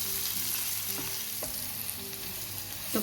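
Small tamarind pieces fry in a hot pan for a Kerala-style chutney, a steady close sizzle with light stirring scrapes and a few soft clicks, no voices.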